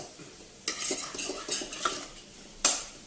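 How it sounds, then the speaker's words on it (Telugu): Prawns frying in a pan for a gongura prawn dish, stirred with a metal spoon: a run of scraping, clinking stirs with a soft sizzle beneath, ending in one sharp clank. "చూసారా? ఎంత ఎర్రగా బాగా వేగాలన్నమాట. ఇలా ఎర్రగా వేగిపోవాలి."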